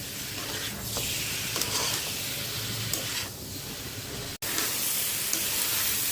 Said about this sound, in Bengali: তেল, কাঁচা পেঁয়াজ, কাঁচামরিচ, আদা, রসুন, মরিচের গুঁড়া, হলুদের গুঁড়া দিয়ে তরকারিটা কষায় নিতে হয়েছি